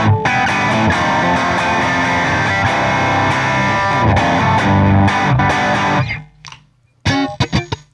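Distorted electric guitar played through the Overloud TH3 amp simulator, dry without delay or reverb, loud sustained chords ringing for about six seconds before cutting to quieter, choppy muted strums.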